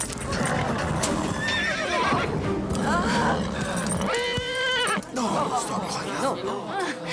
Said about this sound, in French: Stéphanie, contrôle ton cheval!